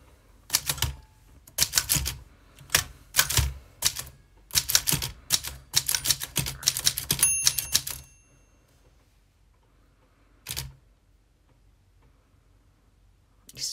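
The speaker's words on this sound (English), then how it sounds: "I'll carry on typing." Bursts of rapid mechanical key strikes clatter in clusters for several seconds, then stop, with one short burst later in a quiet room.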